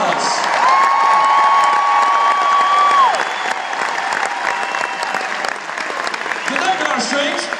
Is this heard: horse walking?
no